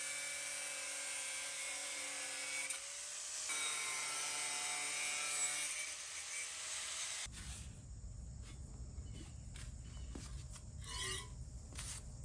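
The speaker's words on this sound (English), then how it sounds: "So I'm gonna get out the angle grinder." An angle grinder cuts a length of 15mm steel guide rail for a DIY metal 3D printer, with a steady high whine that pauses, resumes, then gives way to rougher grinding and scraping, close and loud.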